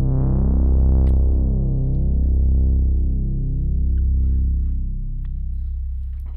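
Sustained Moog Grandmother synthesizer patch built from three oscillators, a thick, buzzy held tone that slowly darkens as the upper harmonics fade, loud and alone with no voices.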